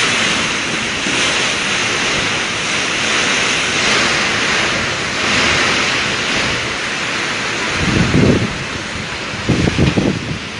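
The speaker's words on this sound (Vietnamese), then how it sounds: "Bảo chứ vào mà gió đã lớn như thế này rồi đấy." Strong wind from typhoon Storm No. 9 roars over Quang Ngai, a loud continuous broadband rush with heavy gusts buffeting close by toward the end.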